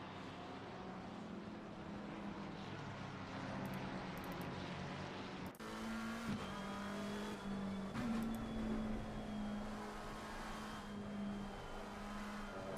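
GT3 race cars lap Snetterton in a sim racing game, the engines whining faintly as the pitch rises and drops through gear changes, with a sharp cut and then a louder tone midway.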